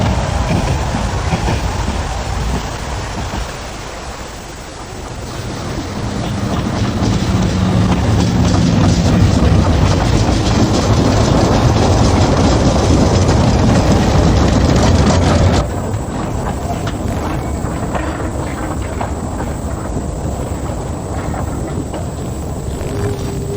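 A small train on the narrow-gauge Talyllyn Railway rumbles along the rails with a steady clickety-clack, loud and close, the rolling noise swelling and then dropping slightly in tone as it passes.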